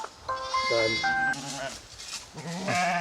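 A ram goat of a traditional Madurai fighting-ram breed bleats in several wavering, nasal calls close by, with a brief pause mid-way and someone talking over parts of it.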